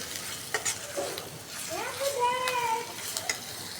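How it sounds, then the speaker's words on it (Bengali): Onion paste frying in a pan for a boal fish curry, with soft sizzling and stirring scrapes, scattered utensil clinks and faint tonal squeaks, fairly quiet and close. "পেঁয়াজের একটা গন্ধ আছে, এই গন্ধটা যাওয়া পর্যন্ত আমি ভাজবো"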